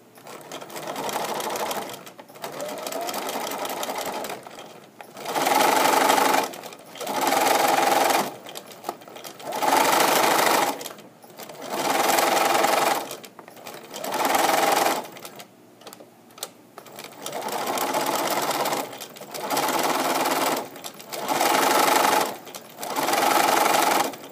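A sewing machine stitches a side seam on a mitten in repeated bursts of fast whirring, each lasting a second or two and separated by short pauses, close up and with no talking.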